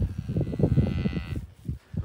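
Cattle at a farm calf shelter moo loudly and repeatedly in a dense, overlapping chorus that fills most of the moment, with a brief gap before a few more close calls.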